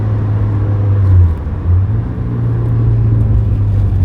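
A Toyota AE86 race car with a 1.6 twin cam engine runs at speed at Silverstone, its engine a loud, steady droning rumble from inside the cabin that briefly dips and then holds its pitch.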